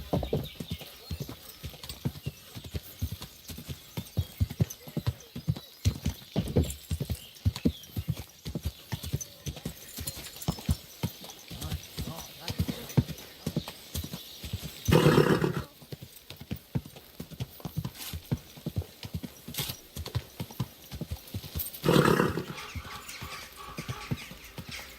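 In Kingdom Come Deliverance 2, a horse's hooves clop steadily and continuously at a walking pace. Two loud whinnies break through partway along.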